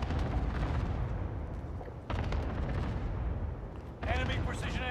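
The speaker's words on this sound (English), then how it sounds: "Enemy precision airstrike." An enemy precision airstrike in the video game Call of Duty: Modern Warfare: heavy, continuous booming blasts and rumbling artillery-like fire, loud and close, with a voice cutting in near the end.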